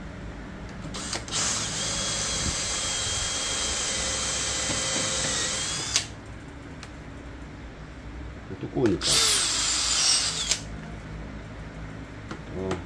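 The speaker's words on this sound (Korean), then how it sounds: "이게 비어 있는 상태에서 두 겹을 동시에 자르면 직소기가 좀 잘 안 됩니다" A jigsaw cuts through two layers of a thick gear lever cover for a Hyundai Veracruz, in two loud, close bursts of buzzing blade noise, the first long and the second shorter, with someone speaking between them.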